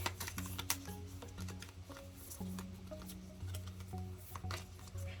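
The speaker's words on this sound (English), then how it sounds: "Pull out 2 cards, 1, 2, and let's shuffle these real quick." Shuffling a deck of The Wild Unknown Animal Spirit oracle cards: a quick run of soft, crisp card flicks and riffles, close by, over a steady low background hum.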